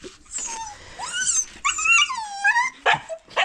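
A dog close by makes a string of whimpering, yipping and growling vocalizations, rising and falling whines broken by short sharper bursts, with no talk over it.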